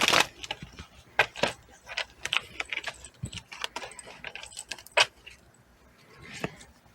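Tarot cards are shuffled and drawn from a deck, making crisp, irregular flicks and snaps of card stock close by, with a few louder slaps between quieter riffling.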